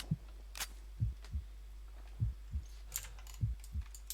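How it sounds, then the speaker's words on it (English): Faint, low thumps come in paired beats at a steady rhythm, a video game heartbeat, with a few soft clicks in between. "I hear my heart beating."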